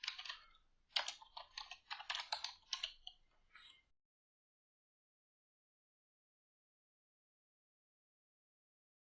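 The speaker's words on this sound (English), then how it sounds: "And let's start typing." Fingers type a short burst of quick, irregular key clicks on a computer keyboard while working in a spreadsheet, close and fairly quiet, then everything falls silent for the remaining several seconds.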